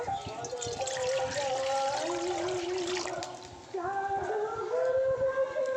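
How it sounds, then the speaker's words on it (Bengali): Water poured into a wok after rinsing grated bottle gourd, a steady close splashing pour that holds for several seconds, dips briefly, then resumes with a rising filling tone. "এবার কড়ার মধ্যে জল দিয়ে দেব"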